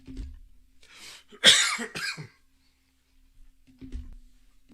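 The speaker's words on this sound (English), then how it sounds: "Sorry for the cough" A short, harsh cough erupts up close, a couple of rough bursts, followed by silence and faint low rumbling.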